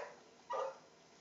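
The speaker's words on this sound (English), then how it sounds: "I hear some barking going on." A dog barks outdoors during a first-person shooter game session, a single short, faint and distant bark lasting under a second against quiet room hiss.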